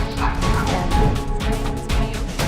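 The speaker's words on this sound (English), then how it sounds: "her two dogs barked and chased it out of the house" Two dogs bark and yip in a loud, busy burst while chasing a black bear out of a house, with crashing noise mixed in and no talk.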